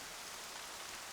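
Steady rain falls in the Horizon Zero Dawn video game, a dense, even hiss of drops that fills the short stretch alone, fairly quiet, with no voices over it.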